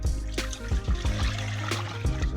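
Water being poured into a cooking pan, 3.5 cups in all, a close, splashing trickle with irregular gurgling bursts running steadily throughout.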